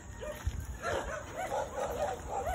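A dog barks in short repeated yaps against a steady outdoor hum, fairly faint and somewhat distant, with no clear talk.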